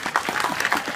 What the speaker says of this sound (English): I hear the front row clapping